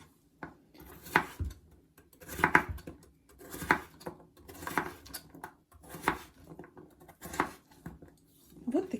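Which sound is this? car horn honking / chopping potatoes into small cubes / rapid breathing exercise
chopping potatoes into small cubes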